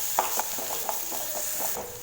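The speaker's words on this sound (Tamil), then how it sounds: "இஞ்சி பூண்டு பேஸ்ட்டோட பச்சை வாசம் போகிற அளவுக்கு பார்த்திங்கன்னா நல்லா வதக்கிட்டேன்" Onion with ginger garlic paste sautéing in a pan for egg fry, a steady soft sizzle with repeated stirring scrapes at an even rhythm, close and fairly quiet, no talking.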